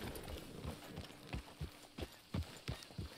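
Horse hooves clip-clop steadily at a riding pace in Red Dead Redemption 2, roughly a dozen close, even hoofbeats over soft ambient background.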